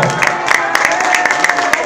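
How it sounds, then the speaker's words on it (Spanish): Audience applause for Verónica Castro at Plaza de las Estrellas, a loud, close burst of clapping and crowd cheering with sharp individual claps standing out over the roar. "El aplauso para Verónica Castro."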